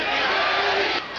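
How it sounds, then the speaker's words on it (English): Boxing arena crowd cheering on a fighter during a bout, a loud, dense roar of many voices sustained throughout before dipping slightly near the end. "They're cheering him on."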